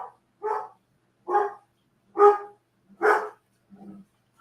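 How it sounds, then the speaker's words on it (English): A dog barks indoors five times at steady intervals, loud and close, each a short separate woof with silence between, followed by a softer low whine-like sound. "Is that your dog?"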